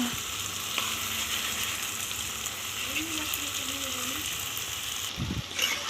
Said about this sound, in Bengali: সবগুলো নেড়ে চেড়ে একটু ভেজে নেব।